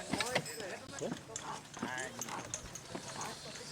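Hooves of a horse pulling a big log clip-clop in an irregular rhythm at close range, partly buried under people talking over them.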